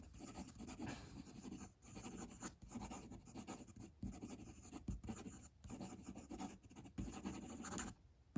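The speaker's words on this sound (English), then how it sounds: "Quick writing." A Ranga Model 3 fountain pen, a wet-writing non-flex nib, moves quickly across paper in quiet, close scratching strokes broken by short pauses, with no voices.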